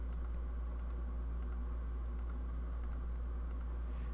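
Rapid mouse clicks while painting with a brush tool in Adobe Photoshop, a steady run of light, close taps with a constant low hum behind them.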